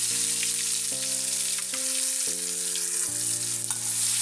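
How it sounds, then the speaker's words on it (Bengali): Ground garlic paste fries in hot oil with black cumin seeds for a Bengali prawn-head bhorta. A constant soft hiss of sizzling sits under sustained melodic background tones, and no one speaks. "একটু রসুনটা ভাজতে দেবো"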